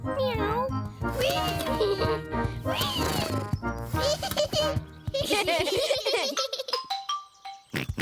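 A cartoon cat from Peppa Pig gives a high, bright meow amid lively children's chatter and giggling, with voices running over and around it in a busy, close scene.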